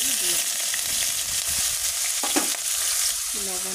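Whole spices such as cumin and cinnamon frying in hot oil in a pan, a steady loud sizzle with brief stirring scrapes and clinks throughout.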